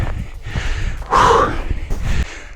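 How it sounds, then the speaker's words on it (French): Heavy, rapid breathing with sharp gasps and puffs, close to the mic, from someone running a 5 km outdoors. "Je respire tellement fort"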